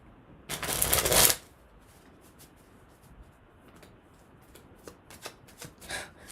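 A deck of tarot relationship cards is shuffled close by in one quick riffling burst, followed by soft handling sounds and light taps as the cards settle.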